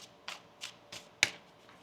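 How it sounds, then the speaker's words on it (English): Tarot cards being shuffled by hand in a quiet room, five short crisp riffling bursts spaced at a steady rhythm, close and clear, the fourth burst the sharpest and loudest. "One more shuffle here."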